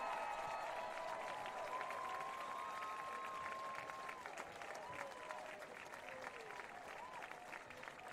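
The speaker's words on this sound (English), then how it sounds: "Please join us in applauding our departing members." Football stadium crowd applauds departing senior band members at Carson Park in Eau Claire, a steady faint wash of clapping and light cheering, with an announcer's voice over it.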